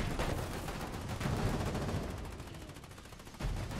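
Gunfire in the video game Foxhole, covering infantry: loud, dense bursts of rapid automatic shots crackle close by, overlapping and almost continuous throughout.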